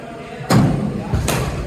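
Cricket bat strikes a ball in the practice nets, two solid knocks about a second apart, close and sharp over background chatter.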